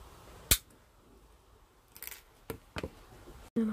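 Wire snipped with cutters during wire wrapping jewelry work: one sharp close click, then a few softer snips and handling taps against a quiet background, with no talking.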